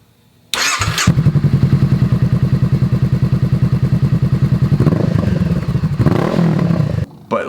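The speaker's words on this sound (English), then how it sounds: "a working, running, fully functioning motorcycle" A motorcycle engine starts and idles loudly nearby with a steady, rapid thumping putter, then revs briefly before cutting out.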